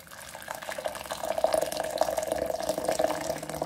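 About 400 ml of hot water poured steadily into a container while making a panna cotta and red fruit jelly terrine, a continuous close splashing trickle with no talk.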